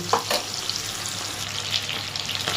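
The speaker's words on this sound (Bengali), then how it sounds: "ভেজে নেবো হালকা করে" Prawns fry lightly in a pan of oil with a continuous, close sizzle and a few soft spatula taps.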